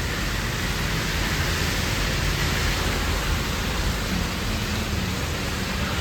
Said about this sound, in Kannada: ಅದೇ ಮಳೆ ಬರ್ತಾನೆ ಇದೆ